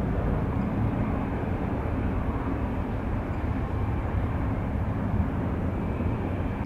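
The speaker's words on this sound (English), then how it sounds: "a regional jet from Redding, California" A Mitsubishi regional jet arriving from Redding, California, at San Francisco airport makes a steady, loud, low jet-engine roar and rumble that holds evenly throughout, with no voices.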